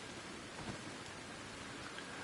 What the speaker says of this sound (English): There's no reason for it to rain as much in this game as it does.